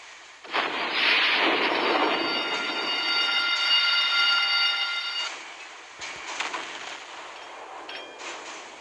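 Battleship guns firing shells in the naval game Naval Creed with a Bismarck, a long roaring, ringing boom that rumbles for several seconds, then fainter distant blasts after it, no voices.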